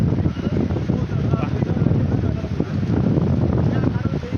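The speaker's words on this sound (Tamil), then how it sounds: "சரியான காற்று அடிக்குது." Strong wind blows at Panambur beach, buffeting the microphone with loud, gusty rumbling throughout, along with faint background noise from the shore.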